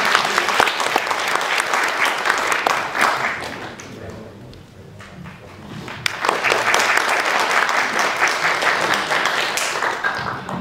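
An audience claps and applauds after an Indonesian angklung performance in Kumamoto, Japan; dense, lively clapping dips briefly in the middle, then swells again loud and sustained.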